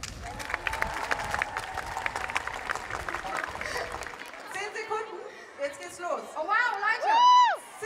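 Audience applause with scattered cheers at a German "25 Years of Harry Potter" fan event in Hamburg, a dense patter of clapping for about four seconds that fades as an amplified voice takes over.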